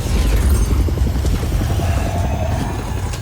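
Wing cannons fire in the Just Cause 4 video game, giving a loud, dense barrage of rapid booming thuds over a continuous rumble with no speech.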